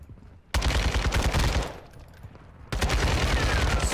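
An RPK machine gun in a Call of Duty game firing two long, loud, rapid automatic bursts up close, the first running about a second and the second starting near the three-quarter mark, with a brief gap of quieter clatter between them.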